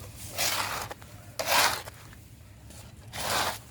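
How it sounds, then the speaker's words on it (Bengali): Potting soil mixed by hand for a gerbera plant, with three separate bursts of gritty rubbing and rustling separated by brief quieter gaps, close up and no talking. "এই মাটিটাকে আমি এবার ভালো করে মিশিয়ে নিলাম"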